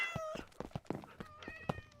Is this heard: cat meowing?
yes